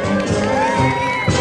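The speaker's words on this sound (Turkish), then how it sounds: "Alkışlıyoruz." Crowd at a Turkish school festival parade cheering, whooping and shouting, with children's voices, as the Saturday school groups march past; a loud, continuous, lively roar close by.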